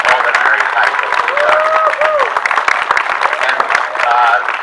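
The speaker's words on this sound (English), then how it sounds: "how about a big round of applause for all that Mary Tyson has" A crowd at a civic ceremony in Danbury gives loud sustained applause, dense clapping with some cheering mixed in, while a voice talks over it throughout.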